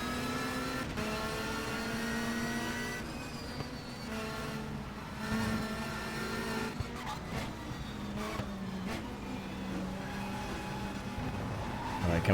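A 1992 BTCC touring car engine in the racing game Race 07 at Brands Hatch Indy, a continuous droning engine note that rises and falls with throttle changes, with faint tyre noise and quiet commentary underneath.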